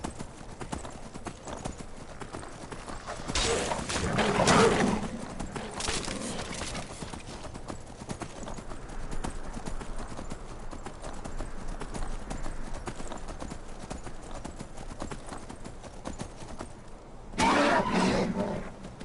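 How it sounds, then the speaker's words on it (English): A horse gallops in the video game Skyrim, with continuous rapid hoofbeats drumming close by across the whole stretch and louder bursts near the start and end. "Nothing can keep up with a Skyrim horse."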